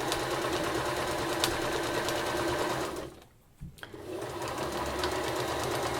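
A sewing machine runs fast and loud nearby, stitching a quilt line through quilted fabric, with a steady rapid hum that briefly stops for a moment before resuming.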